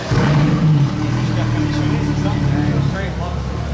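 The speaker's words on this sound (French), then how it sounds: "Là la Ferrari part déjà." A Ferrari sports car pulls away on a street in Juan-les-Pins, its engine a loud, close, low drone that holds steady throughout while someone talks over it.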